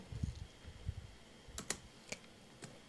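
Someone types a prompt on a computer keyboard: a few faint, close keystrokes and sharp clicks spaced irregularly over low background noise.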